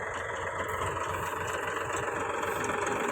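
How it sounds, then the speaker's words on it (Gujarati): A tractor engine runs steadily nearby while harvesting potatoes in a field, a low rumbling drone with a constant idle-like throb throughout. "છેલ્લું આ ટ્રેક્ટર હવે મોસમ પણ કાઢી રહી છે"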